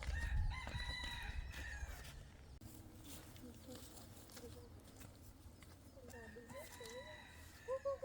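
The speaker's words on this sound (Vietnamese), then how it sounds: "Mình đi xem con gà." Rooster crowing on a farm, a couple of faint crows early on and a clearer one near the end, with clucking hens and other birds around and a loud rustle at the start.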